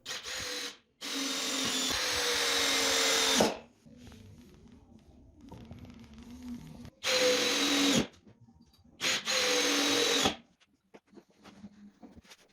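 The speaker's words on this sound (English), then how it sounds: "You can use an electric drill to direct the long screws in the desired direction and to make sure the wood doesn't split." An electric drill drives long screws into a wooden workbench base, whirring in three or four sustained runs of a few seconds each with quiet gaps between, close and loud.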